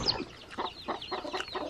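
A chicken on a Maasai homestead in Kenya clucks in short repeated bursts, faint and close, with no talk over it.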